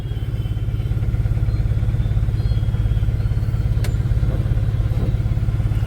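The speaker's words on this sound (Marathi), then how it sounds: "गर्दी खूप आहे ट्रॅफिक जाम आहे एकदम बघा" Traffic jam on a road at Dwarka in the rain, a steady low rumble of idling car and motorcycle engines with a brief clatter midway, no voices.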